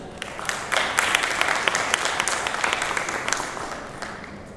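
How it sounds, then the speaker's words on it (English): Audience applause for a smart enterprise panel at the ArabNet Digital Summit 2015, a sustained, even clapping from a room full of people that swells early and holds steady throughout. "Please join me in giving them all a warm round of applause."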